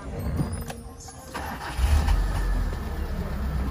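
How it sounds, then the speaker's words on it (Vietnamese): A Mitsubishi car engine cranks briefly, then catches and settles into a low, steady idling rumble close by. "Bây giờ thì em nổ máy nhá"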